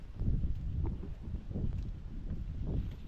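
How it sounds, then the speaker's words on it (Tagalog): Steady low rumbling wind buffeting the microphone in gusts in an open area beside harvested fields, continuous throughout with no voices. "dito po ang pinakamalakas na hangin. Kasi ito open area eh."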